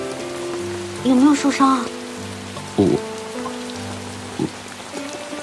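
Steady rain patters on a surface throughout a rainy night, heard beneath music and a brief exchange of voices.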